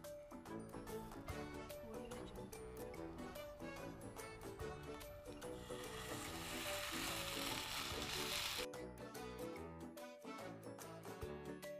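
Idli batter sizzling and frying in hot oil in a pan for instant fried idli, a continuous dense crackle that swells louder for a few seconds before easing back, heard alone with no voices.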